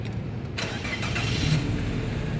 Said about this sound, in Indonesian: Sekarang kita coba start mobil ya.